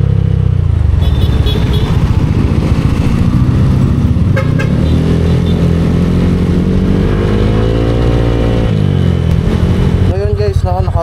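A bored-up Honda Click with a 59mm cylinder revs and accelerates along a road. Its engine note rises and falls steadily while traffic passes nearby and a horn honks briefly near the end.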